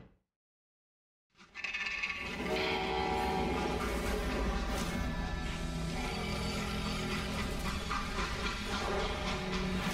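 A freight train in the Western video game Call of Juarez Gunslinger starts up after a moment of silence, a dense, steady rolling clatter and rumble that stays loud and close throughout, with no voices.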